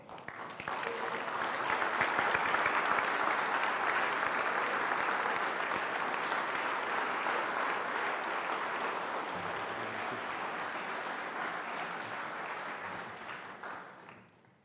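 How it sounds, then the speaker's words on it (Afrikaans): An audience at a memorial service stands and applauds, producing loud, sustained, dense clapping that holds steady for several seconds before trailing off at the end. "Dan staan almal op en klap hande."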